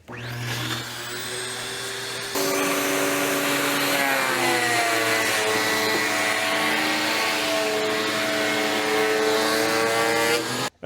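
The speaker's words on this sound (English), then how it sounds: "now that I've got the boards through the planer" A wood planer feeds boards through its cutterhead, a loud, steady whine that rises sharply after a short idle start and holds bright tonal harmonics until cutting off abruptly at the end, no voices.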